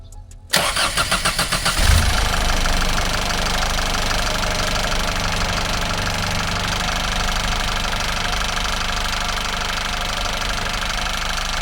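A 2022 Isuzu D-Max 1.9 Bluepower RZ4E diesel engine cranks rhythmically for about two seconds, catches and settles into a loud, steady, clattering idle close by, with no talking.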